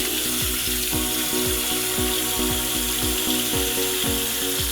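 Running water rinses a soapy makeup brush, a steady broadband wash of flow with repeated rhythmic squelching pulses as the bristles are squeezed and worked under the stream.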